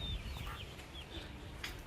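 Parrot-beak chickens on a free-range breeding farm cluck and chirp faintly over a steady low background hum, with short, scattered calls throughout.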